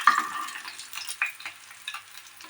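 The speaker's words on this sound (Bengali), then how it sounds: "দেখুন, এইভাবে মাছটাকে ফ্রাই করে নামিয়ে নিলাম" Bata fish frying in a pan for a Bengali masala fry, giving a soft, steady sizzle with a few brief clicks and stirs, moderately close and alone with no talk.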